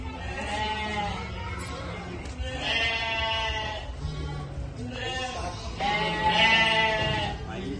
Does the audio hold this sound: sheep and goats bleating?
yes